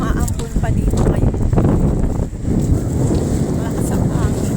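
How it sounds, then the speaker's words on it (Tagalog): Strong storm wind buffets the microphone on a mega dike by the sea, a loud, continuous roar with gusty surges and rain, while people talk under it. "Malakas ang hangin."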